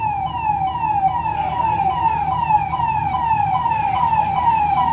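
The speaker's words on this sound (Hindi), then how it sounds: "आई थिंक अभी फायर इंजन आ रहा है, ये फायर ब्रिगेड आ रहा है।" A fire engine siren wails repeatedly in a fast rising-and-falling cycle as the truck arrives at a blaze near a hospital, loud and close over a low rumble of road traffic.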